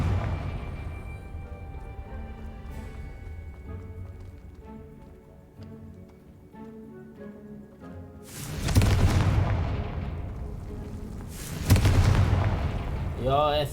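Two heavy explosive blasts from the Confringo fire spell in Hogwarts Legacy burst out a few seconds apart, loud and booming over steady orchestral game music.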